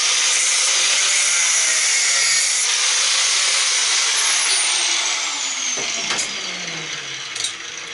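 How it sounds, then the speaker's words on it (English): A bolt being cut on an old belt/disk sander during scrapping: a loud, steady, grinding hiss runs without a break, with a thin whine sliding downward and a couple of sharp knocks near the end. "first I'm going to try to cut this bolt here"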